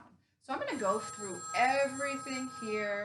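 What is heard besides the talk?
telephone ringing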